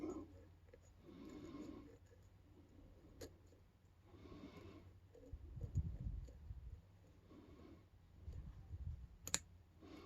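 Small mechanical clicks from an LSDA brass padlock's mechanism being worked, a few faint, sparse ticks spread through a quiet stretch with low handling rustle and some breathy noise.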